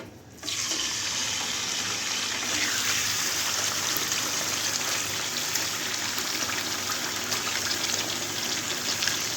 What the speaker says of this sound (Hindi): इसमें अब हम चिकन डाल देंगे।